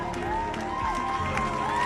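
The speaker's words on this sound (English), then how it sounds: "Ladies and gentlemen, let's have a big round of applause" Applause and crowd cheering greet the newly crowned Mrs. World at a pageant, a brief, steady wash of clapping mixed with loud music and voices.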